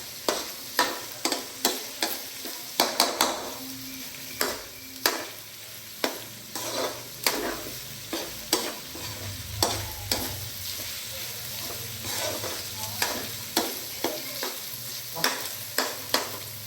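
Pre-cooked hotdog being stirred into spaghetti sauce in a pan, with repeated scraping and clacking strokes at an uneven rhythm over a soft sizzle, close by and fairly loud.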